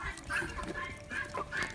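Several chickens cluck nearby in short, bobbing bursts, a soft rhythmic chatter over faint background noise.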